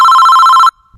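A single electronic telephone ring, a loud steady tone lasting most of a second, then cut off, followed by a faint low thump.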